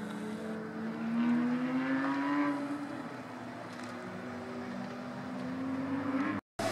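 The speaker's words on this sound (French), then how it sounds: "une F-Type cabriolet avec le V8 qu'on peut reconnaître avec les 4 sorties d'échappement" A Jaguar F-Type convertible with a V8 and four exhaust outlets drives by outside the Magny-Cours circuit, its low, rumbling engine note rising then easing as it moves past at moderate distance, with no talk.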